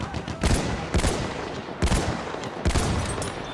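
Battlefield 1 gunfire comes as four loud, sharp shots spaced about a second apart over a faint background of distant battle noise.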